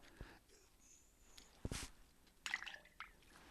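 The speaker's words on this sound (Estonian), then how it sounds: "siis me kuuleme sulpsti, mis tähendab seda, et see lumepallike kukkus põhjavette" A small snowball drops down a well pipe into the groundwater, giving a faint, distant plop and a couple of soft splashes in quiet surroundings.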